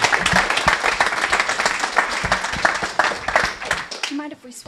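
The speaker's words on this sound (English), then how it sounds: "can we just get a round of applause for Andy?" A live audience at an evening startup founders' event in Edinburgh breaks into sustained applause, dense clapping running loud and steady for several seconds before tapering, with a voice speaking briefly near the end.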